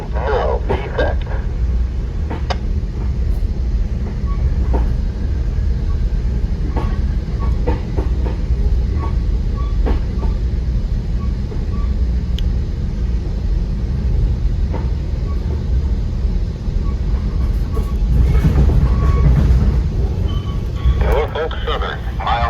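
VRE commuter train #336 rolling on rails from Broad Run Airport toward Washington DC, a loud continuous rumble with steady rail clatter and a few brief metallic clicks, heard from the cab throughout.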